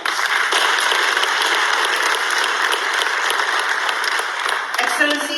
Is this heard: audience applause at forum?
yes